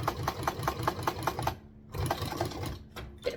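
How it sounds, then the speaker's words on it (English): Sewing machine stitching at close range, a rapid steady run of needle strokes that pauses briefly, restarts, then stops for a short back-stitch. "and then I'm going to stitch."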